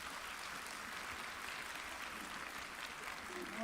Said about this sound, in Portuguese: Dá um aplauso para eles enquanto eu abro meu chá.